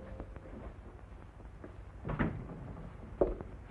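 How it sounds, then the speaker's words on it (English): A door closed indoors in a 1948 film scene, a few soft wooden knocks and thuds, the firmest near the end, over a faint low background hum. "Do you mind closing the door"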